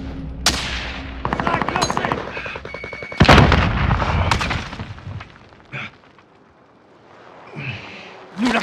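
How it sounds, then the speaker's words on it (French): Gunfire in the video game Warzone: bursts of rapid automatic shots and sharp single cracks, loud and close, with a heavy blast midway before the action quiets down. "Je me fais tirer dessus."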